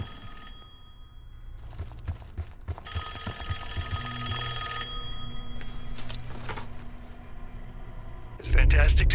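Telephone ringing in the Call of Duty Black Ops 6 campaign, a bell-like ring repeating over a low game ambience and music, with a louder burst of sound at the end.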